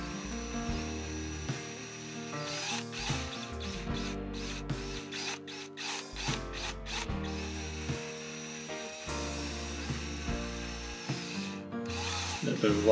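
A small electric hobby drill cuts into a Matchbox die-cast Mercury Cougar. Its close, high whine keeps stopping and restarting in short bursts as the pitch shifts under load.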